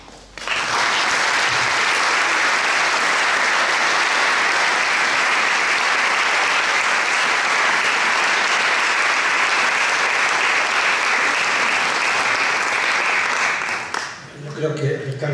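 Audience applause at a memorial tribute, sustained dense clapping from a large crowd that holds steady for over ten seconds before fading out.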